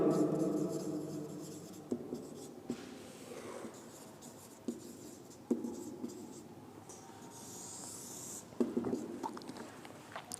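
Handwriting on paper while working out a matrix calculation, close and steady scratching broken by a few sharper pen taps and pauses, with no speech over it.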